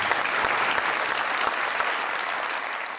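Sustained audience applause for a contest winner named Saniya on a talk show, dense and even clapping from a studio crowd that holds steady throughout.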